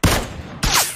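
Video game gunfire bursts out in two loud, close shots, one at the start and another just past the midpoint, each with a sharp crack and a short ringing tail.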